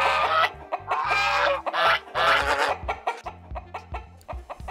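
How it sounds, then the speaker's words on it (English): Hens and geese in a farmyard cluck and honk together in a busy, loud flurry of overlapping calls, close by and continuous, with no talking. "Soon Hazel came to a yard with many hens and geese. What a noise they made!"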